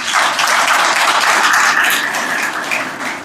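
Students at a college seminar in Pathardi clap loudly for their teachers and principal, a close, continuous burst of applause that stays full throughout, with faint voices mixed in.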